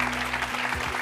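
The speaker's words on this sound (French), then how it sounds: "On peut applaudir Marilyn." A studio audience on a French talk show applauds a guest in a brief, steady burst of clapping, with a faint hum running beneath.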